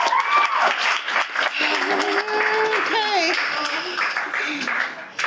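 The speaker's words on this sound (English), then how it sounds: "Another clap" Wedding guests clap in a dense, steady burst of applause at a reception, with voices talking and cheering over the clapping throughout.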